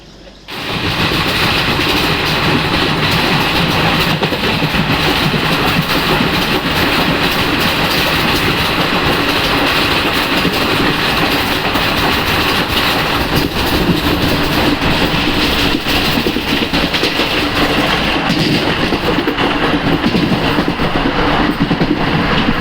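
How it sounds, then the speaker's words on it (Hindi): Intercity express train running on rails near Achnera Junction, a steady continuous clickety-clack and rumble of railroad cars heard from onboard, loud and unbroken throughout with no talk. "तो अब हमारी ट्रेन आ चुकी है अचनेरा जंक्शन।"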